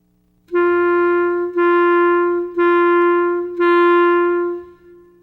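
A clarinet plays four separate sustained notes on G, each tongued and held about a second, clear and close with no talk.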